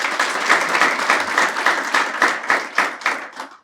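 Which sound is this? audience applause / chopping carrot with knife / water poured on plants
audience applause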